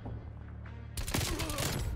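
A burst of Milano 821 submachine gun fire in Destiny 2 breaks in after a quieter moment, loud, rapid and close, continuing to the end.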